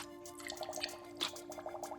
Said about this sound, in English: If you're just rinsing the system like I am, add distilled water.